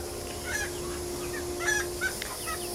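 Silkie chickens in a backyard coop, giving soft intermittent clucks and short honking calls over a low steady background hum, fairly faint and a little distant.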